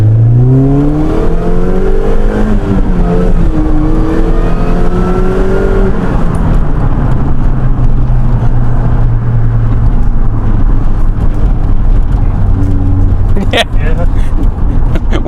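A supercharged Mini Cooper S engine revs and accelerates hard, its pitch climbing and shifting through gears, loud and close with a steady roar throughout.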